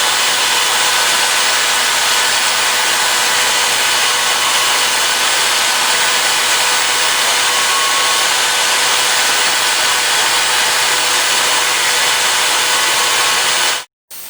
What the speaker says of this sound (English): So I ran out of pins, so I have to cut up some new pin stock.